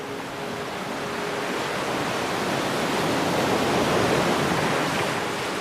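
Sea waves washing steadily in a relaxation setting, a continuous broad rushing surf that swells gently louder toward the middle, with no voices.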